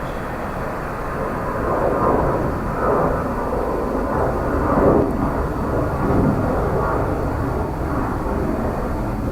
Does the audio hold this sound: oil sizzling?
no